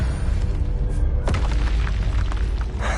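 A Confringo spell explosion in Hogwarts Legacy lands as a loud, booming blast that swells into a sustained rumbling roar with a crackling burst partway through.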